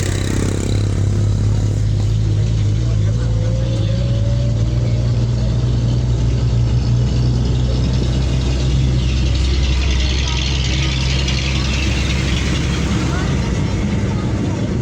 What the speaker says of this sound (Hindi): बहुत बड़े बड़े ट्रक जाते हैं।